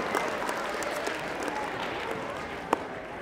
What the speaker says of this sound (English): I never got applause for that before.